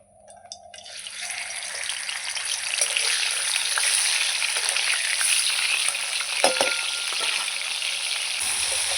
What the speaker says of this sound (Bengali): তেল আমার গরম হয়ে গেছে এবার মাছটা দিয়ে দেবো প্রথমে মাথাটা ভেজে নেব